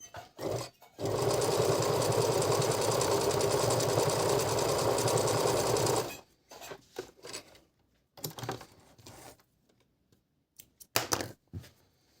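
A Singer 822 sewing machine runs a zigzag stitch on knit fabric, its fast rhythmic mechanical clatter steady and close for about five seconds, then stopping, leaving scattered handling clicks and rustles.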